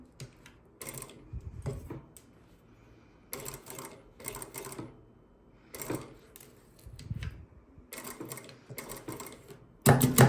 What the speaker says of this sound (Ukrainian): Прокладаю оверлочний шов обережно.